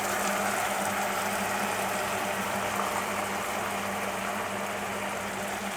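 Water pours steadily into a pot of soaked rice with orzo-shaped barley vermicelli for pilaf, a continuous gushing wash that stays even and fairly soft throughout, with no talking.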